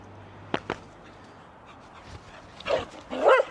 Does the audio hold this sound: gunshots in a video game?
no